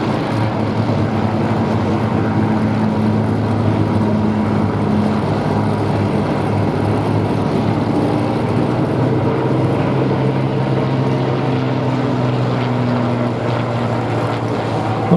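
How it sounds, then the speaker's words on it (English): Three Kestrel-engined biplanes fly at the Duxford Flying Legends air show, giving a loud, sustained propeller drone with a steady throbbing engine tone that does not let up. "Not many places in the world you can hear three kestrels singing."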